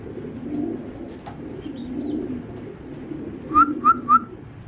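A blue bar racing pigeon gives three short, clear whistling coos in quick succession near the end, rising above a low, murmuring background.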